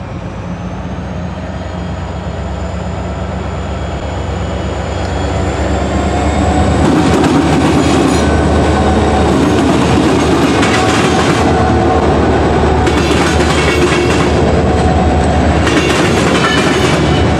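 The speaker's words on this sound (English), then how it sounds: "The first one was led by NS 3520, an EMD SD 40-2 built in 1978 for the Frisco Railroad as 957." Freight train led by NS 3520, a 1978 EMD SD40-2 diesel locomotive, rumbles past loud and close, rising from a distant drone into a heavy roar with rhythmic wheel clatter.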